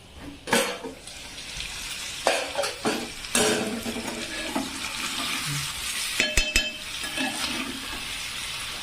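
Fish curry stirred in a pan, with a spoon scraping and clinking against the metal over a soft background sizzle, in short irregular bursts without any talking.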